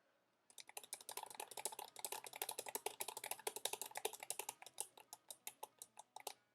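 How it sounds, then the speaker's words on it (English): Clicky computer keyboard typed in rapid, steady bursts of sharp keystrokes while a rhythm game is played, close and fairly quiet, with no talking. "And also my keyboard is kind of clicky."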